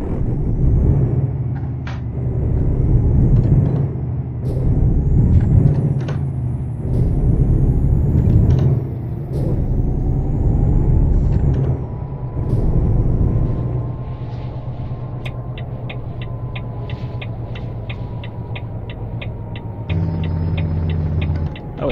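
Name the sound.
truck Jake brake in video game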